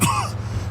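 A wounded man with broken ribs coughs harshly in the Mafia 2 video game, a single short throat-clearing burst that quickly fades.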